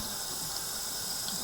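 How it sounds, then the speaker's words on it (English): A cold water tap runs steadily over pasta being rinsed in a colander, a constant quiet hiss of flowing water with no talk. "just rinse it under the cold water tap, and that will make sure that the pasta doesn't stick together"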